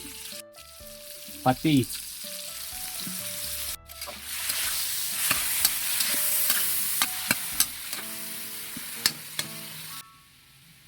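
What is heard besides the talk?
sautéing garlic, onion, tomato and tofu in a pan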